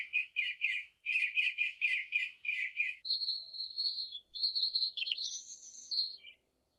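Birds chirping in an AI-generated sound effect: first a fast run of repeated chirps, then longer whistled trills and higher notes, heard alone and fairly soft.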